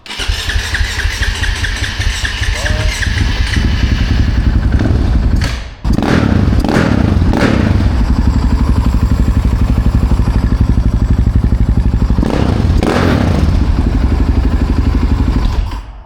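A KTM motorcycle engine with a 530 motor revs hard and loud up close, with sharp repeated throttle blips. It briefly drops out partway through and then surges back, with a rough, rumbling idle between the bursts.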